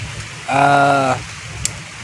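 Rain falls steadily, heard as a soft, even hiss, while a brief tonal vocal sound rises above it for about half a second.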